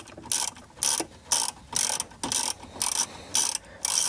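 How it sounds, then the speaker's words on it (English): A ratchet with a deep 10mm socket backing out a bolt during a 2012-2015 Lexus RX dash install, about nine regular clicking bursts, close and crisp. "We've got the deep 10mm socket, and once again we're simply going to back that bolt right out."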